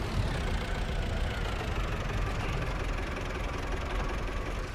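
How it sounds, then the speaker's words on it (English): A tractor engine in Farming Simulator 2025 drives slowly up loading ramps, giving a faint, steady low drone with a rough, knocking texture throughout. "let's just take it nice and easy getting this tractor up here"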